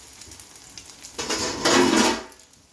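Spanish potato tortilla sizzling in a hot pan after being flipped back in, a quiet hiss rising suddenly midway and swelling to a loud crackling fry before easing off.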